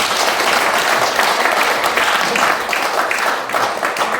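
A lecture audience applauds at the close of a talk: dense, sustained clapping from many hands filling the room, loud and continuous with no speech over it.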